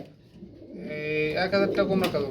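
Pigeons kept in pairs on a farm coo close by with soft, throaty, rolling calls that swell over a couple of seconds. A voice talks over the birds.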